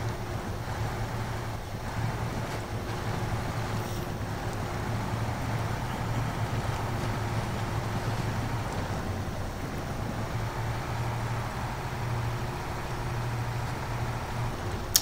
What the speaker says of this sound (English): I do like the sound of this truck too.